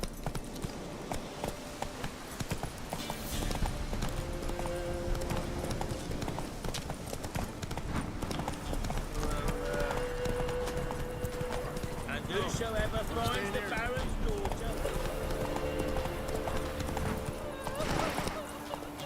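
Roach the horse in The Witcher 3 galloping, with a steady, quick clip-clop of hooves running throughout, brief neighs in places, and someone talking over the top.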